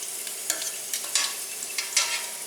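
Rosemary leaves frying in a pan and being flipped, a bright crackling sizzle with quick bursts of spattering as the leaves are turned, close and fairly loud, with no talk.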